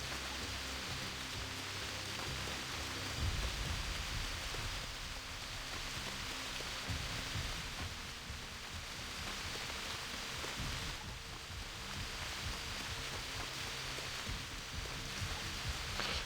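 Steady rainfall in the video game Eisenhorn: Xenos, a faint, even hiss of drops that holds constant with slight swells and no talking over it.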